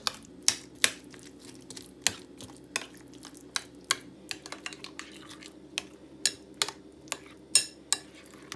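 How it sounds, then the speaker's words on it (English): A spoon mixes a raita of cucumber, tomato, onion and green chutney in a bowl, tapping and scraping in sharp, irregular clicks close by, with a faint soft swish between strikes. "Then I'm going to mix all together."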